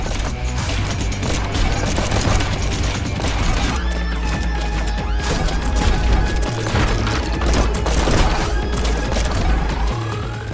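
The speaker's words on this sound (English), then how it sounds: "Every weapon sound becomes ingrained in your mind. The sound of demons dying and the counter ticking down is pure perfection." Dense, loud video game combat from Neon White: rapid weapon shots, crashing impacts and mechanical clatter layered over pounding music, with rising tonal sweeps and no pauses.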